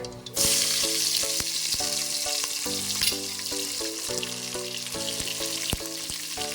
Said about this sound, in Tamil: இப்போ இந்த டைமில் நான் வந்து கட் பண்ணி வச்சுருக்க வெங்காயத்தை சேர்த்துக்க போகிறேன்